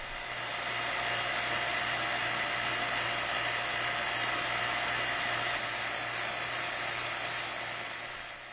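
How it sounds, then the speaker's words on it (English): A vacuum pump runs with a steady, loud whirring hiss that holds unchanged throughout, with no voices. "The vacuum pump has been running for just over four minutes now"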